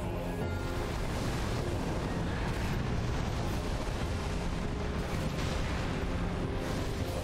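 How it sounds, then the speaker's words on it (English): Ranged fire spell cast in Dark Souls III, a dense continuous roar of fiery rumble and crackle that stays loud and steady throughout without pause. "Let's try the better ranged fire spell."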